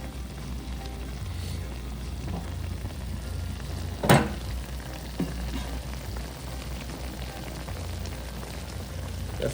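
Chicken frying for Jamaican fricassee with spices, garlic and habanero gives a steady, close sizzle throughout, broken by a brief clatter around the middle.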